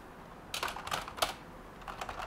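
Quick, close clicks of typing on a computer keyboard come in short bursts of keystrokes with brief pauses between them, in an otherwise quiet room.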